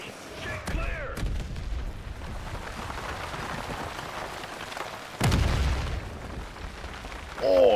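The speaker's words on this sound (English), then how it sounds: "Incoming artillery. Get clear." Incoming artillery in a Battlefield match: a heavy boom lands around five seconds in amid constant rumbling battlefield noise, with shouted voices and other bursts near the start and end.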